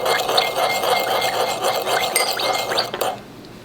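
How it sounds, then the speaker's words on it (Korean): A spoon stirs a teaspoon of sugar into fresh lemon juice for a dumpling dipping sauce, making close, continuous clinks and scrapes against a small dish that stop abruptly near the end. "설탕을 한 티스푼 정도 해서 이렇게 저어줍니다."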